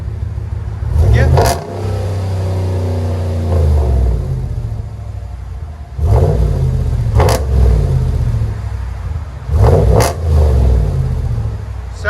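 A GMC Sierra AT4 pickup's 6.2L V8 revs hard through its exhaust in three sharp, loud bursts that settle back to a deep, rumbling idle between them, heard up close.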